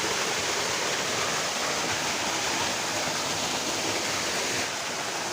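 Steady, rushing flow of water, loud and close, a continuous broadband roar from a fast hillside stream swollen by rain, with no voices.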